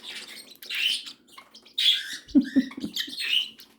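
Two pet birds, one of them a lovebird named Sprinkles, squabble on a person's shoulder, trading sharp close chirps and screechy squawks in irregular bursts with brief pauses, plus a few lower rasping scuffles.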